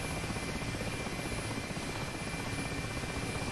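Mi-8 helicopter engine and rotor in the DCS flight simulator, a steady dense whine and rotor thrum heard from inside the cockpit, continuous and even with no talk.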